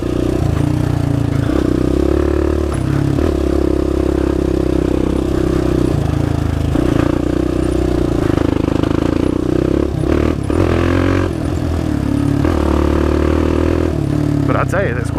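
A quad ATV's engine runs at a steady idle close by, a humming drone with a firm low tone, overlaid by occasional clatter and scraping.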